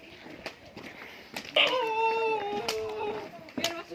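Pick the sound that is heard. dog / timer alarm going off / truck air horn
dog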